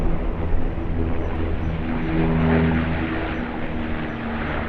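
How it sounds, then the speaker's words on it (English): A Dash 8 Q300 turboprop aircraft at Sydney Airport drones steadily with a throbbing propeller hum and a broad engine roar, moderately loud and swelling slightly midway. "Loving the sound of my favourite aircraft, the Q300."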